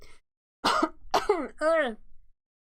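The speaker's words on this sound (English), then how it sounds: "sorry for the coughs" A few short, harsh coughs from a nearby person, roughly three bursts in quick succession, with a throat-clearing quality and silence on either side.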